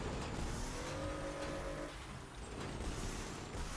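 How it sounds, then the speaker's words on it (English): Booster car built in the video game Crossout driving along, a continuous loud mechanical engine drone with gear-like rattling and creaking, steady throughout. "How fun a good booster car is"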